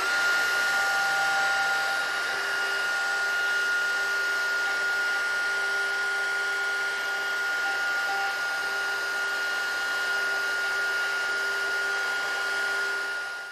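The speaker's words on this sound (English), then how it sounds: "I'll go ahead and take one more plunge cut, and then we can raise the router bit up and then go down 1/4 inch or so at a time, moving back and forth" Router plunge-cutting and squaring a mortise in a mortising jig, a steady high-pitched motor whine running continuously at close range with little change.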